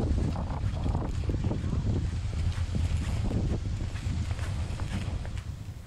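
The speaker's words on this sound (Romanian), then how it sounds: "Bate vântul" Strong, gusty wind buffets the microphone at a campsite on the Corsican coast near Ajaccio, a steady broadband roar with low rumble throughout and no speech.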